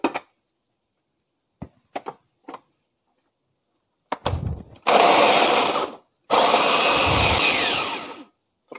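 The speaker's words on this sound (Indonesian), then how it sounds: "Untuk bawang berambangnya saya nggak mau halus ya, jadi saya chopper sebentar aja." Electric food chopper briefly chopping shallots, heard as two loud whirring bursts of about one and two seconds, preceded by scattered clicks and knocks of handling.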